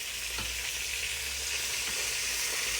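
Steak frying in a pan to golden brown, a steady close hiss of sizzling fat with a few faint stirring taps, continuous and even, no talk.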